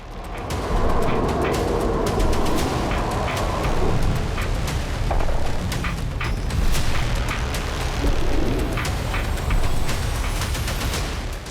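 Continuous heavy rumbling and booming with repeated blasts and crackling, loud and sustained like a barrage of explosions, from a night of Russian strikes on Ukraine.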